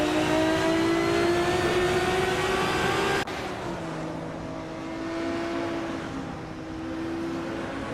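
Race cars in a racing video game drone along with steady revving engines, loud and continuous, with a sudden pitch drop partway through as the engine note shifts, and no talk over it.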